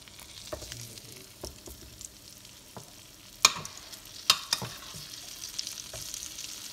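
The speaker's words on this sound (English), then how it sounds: "And then I will put it in the oil." Country fried steak sizzles in hot oil in a pan, a steady soft crackle with a few sharper pops and spatters near the middle, heard alone without talk.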